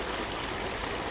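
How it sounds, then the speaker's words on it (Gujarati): Water flowing steadily in from a pumped line, a continuous rushing gush with no break, fairly quiet and close. "પાણી આવી ગયું છે."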